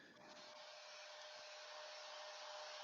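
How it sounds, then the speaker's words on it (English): A hair dryer runs steadily for the whole stretch, a loud, close, even rushing blow with no pauses and no voices over it. "it's my Theresa May hairdryer"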